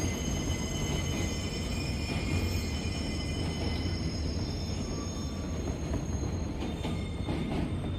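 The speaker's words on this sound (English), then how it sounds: "The train now turns onto the Culver Street Spur." A Minecraft subway train rolling along rails with a steady rumble, faint wheel squeal and occasional clacks, continuous throughout with no talking.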